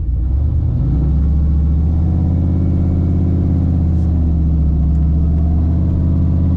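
Turbocharged Chevrolet Silverado pickup engine at hot idle: a loud, steady, deep rumble runs throughout with a slight waver in pitch, close by.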